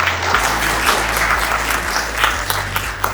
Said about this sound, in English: Give Professor Cheah a round of applause